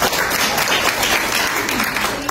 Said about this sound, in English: Can we give our new friends a big round of applause?